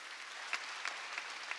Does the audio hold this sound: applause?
yes